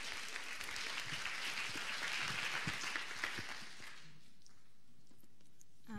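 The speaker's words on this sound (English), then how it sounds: "A round of applause for Chalema Joyce." Audience applause at a live grand-finals event welcomes a speaker to the stage, a dense burst of clapping for about four seconds that then drops away to a quiet room.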